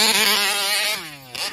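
Taylor RC 71 Supreme RC boat with its nitro engine at quarter throttle gives a loud, buzzing, high-revving whine that holds steady, dips in pitch, then briefly surges again, close and with no voices.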